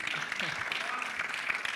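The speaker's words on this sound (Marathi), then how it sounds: "वा, एकदा जोरदार टाळ्या सिद्धार्थसाठी" Audience applause at a Marathi film trailer launch event, a steady wash of clapping running through the whole short stretch with speech audible over it.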